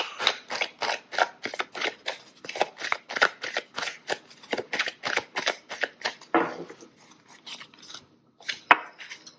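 A deck of oracle cards is shuffled by hand with a long, steady run of rapid papery riffles and slaps, close up and even in rhythm, ending in a short gap and a final card snap.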